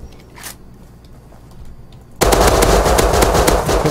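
Gunfire in the video game Rust: after two seconds of quiet, a loud, rapid burst of automatic fire suddenly erupts and keeps going to the end.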